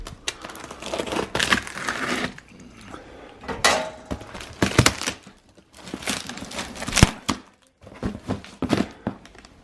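A cardboard shipping package of clothing being sliced open: close rustling, crinkling and scraping in uneven bursts with short pauses and occasional dull thunks, no talking.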